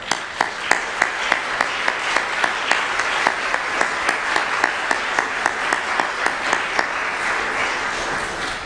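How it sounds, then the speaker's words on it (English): Sustained applause from a room of people standing at a community forum, dense clapping with a few sharp, louder claps standing out at regular intervals throughout. "Can we give them a hand of applause?"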